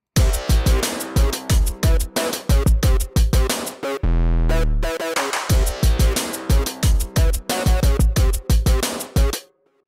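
A loud synth groove from the Caustic modular synth, arpeggiator off, with punchy drums and deep bass hits, the bright synth chords stabbing in rhythm, with a brief sustained bass swell midway.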